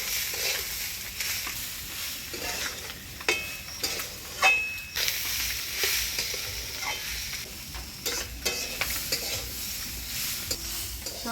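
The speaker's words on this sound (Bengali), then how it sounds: "সব কিছু দিয়ে চাল আর ডালটা ভালোভাবে একটু আমি তেলের মধ্যে নাড়াচাড়া করে নিলাম" Rice and lentils with turmeric, salt and green chilies are stirred in hot oil for khichuri, making a soft, steady sizzle broken by intermittent scraping strokes of a spoon against the pot.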